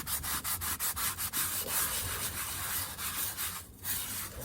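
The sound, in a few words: coarse salt rubbed into cast iron skillet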